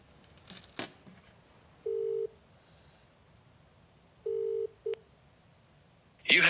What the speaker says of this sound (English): we'll try him on the company work phone